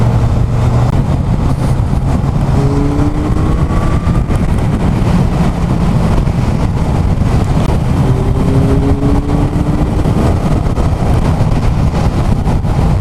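A Kawasaki Zephyr 1100 motorcycle pulling hard under acceleration, a loud steady engine drone with rising pitch sweeps mixed with heavy wind rush on the microphone, no talking.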